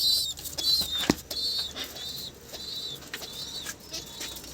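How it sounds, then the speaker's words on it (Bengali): Beldanga pigeons coo softly in a loft, with brief wing flaps and a sharp knock, under a faint high squealing from young birds; quiet, close, and without talk. "বেলডাঙ্গার ফেসা পায়রা"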